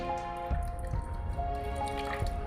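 Kewra water is poured into chicken biryani being cooked in a pressure cooker, a close, soft liquid pour with small drips and squishy splashes over a steady low background hum.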